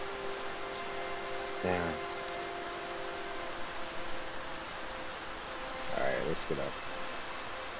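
Steady rain falls in a peaceful scene in the video game Bramble, a soft continuous hiss that runs throughout while someone speaks briefly over it.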